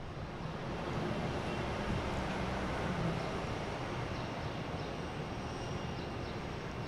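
A Delta airliner departing Boston Logan, heard as a distant, even wash of jet engine noise that rises gently at the start and holds steady throughout, faint and with no voices.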